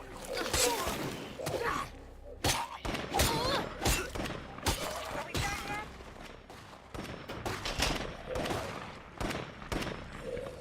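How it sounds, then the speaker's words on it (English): Rifle gunfire in the zombie-survival video game State of Decay 2, a busy stretch of repeated sharp shots and bursts at loud, steady level with a voice talking over the fighting. "Now the people with the rifles are shooting"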